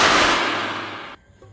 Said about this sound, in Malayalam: അർജന്റ് ഒരു വെടി.